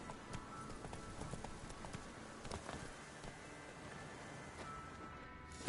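Roach, the horse in the video game The Witcher, gallops with quick, rhythmic hoofbeats that stay fairly faint and steady over a busy game background.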